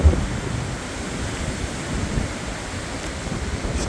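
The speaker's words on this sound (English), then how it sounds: "These ones move a lot in the wind, these bushes." Strong wind gusts roaring through trees and bushes during a UK storm with 70-90 mph gusts, a constant broad rushing noise heard close, steady with a brief knock at the start and no talk.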